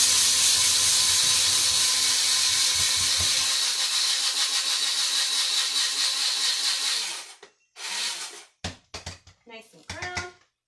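An electric grinder grinding flaxseed, a loud continuous high whirring drone for about seven seconds that cuts off abruptly, followed by brief rattles and knocks of the container.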